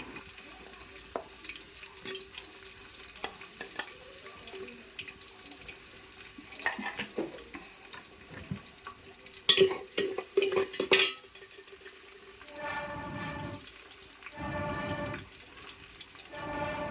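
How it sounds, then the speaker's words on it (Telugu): Onions and green chillies fry in a pan while being stirred, giving steady close sizzling with scraping and clattering strokes that grow louder midway, then softer bursts of frying toward the end. "ఇంకా పచ్చిమిర్చి కూడా వేసేసుకొని మొత్తం అంతా కలిపేసుకుందాము."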